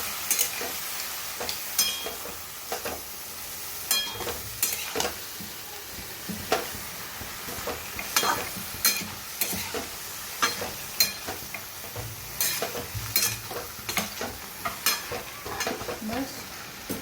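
Food frying in a pan while being stirred and mixed, with steady sizzling under repeated clinks and scrapes of a utensil against the pan, close and fairly loud.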